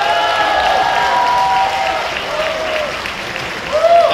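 Loud, continuous applause from an event audience greets the cast of Papás por Conveniencia, thick with crowd noise and scattered voices, swelling again briefly at the end.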